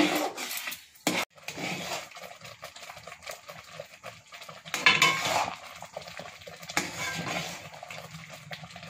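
Spoon stirring kheer, milk rice pudding, in a metal pot, repeated scraping and clinking against the pot bottom and sides, close and clear.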